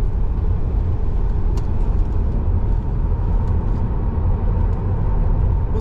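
A Tesla Model 3 Standard Range Plus electric car drives hard on a race circuit, giving a loud, steady, dense road and wind roar inside the cabin, with tyre noise throughout and no talking.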